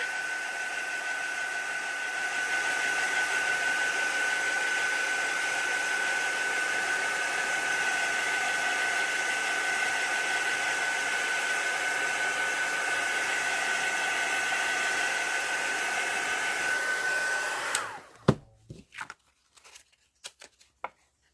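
A hair dryer blows steadily and loudly for about eighteen seconds while drying something glossy, then cuts off, leaving a few scattered handling clicks and knocks.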